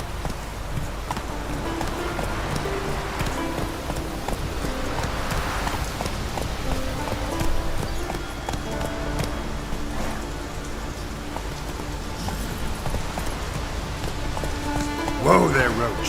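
Roach the horse from The Witcher 3 runs with steady, rhythmic clip-clop hoofbeats under soft rain-like ambience, with a brief louder clatter near the end.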